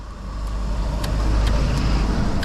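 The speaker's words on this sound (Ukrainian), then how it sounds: "Холодний пуск." A car engine idling just after a cold start, with a steady, close low rumble that holds evenly throughout and a few faint high ticks over it.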